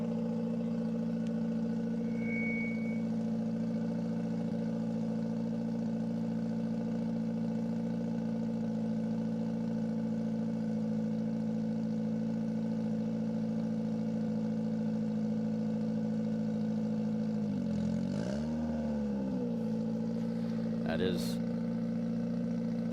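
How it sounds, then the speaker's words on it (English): A 1973 vintage Kawasaki 175cc motorcycle engine runs at a dry lakebed speed event, a steady mid-pitched drone with a brief pitch dip and rise near the end, heard under a humming public-address system. "That is a 1973 vintage Kawasaki, 175cc Kawasaki."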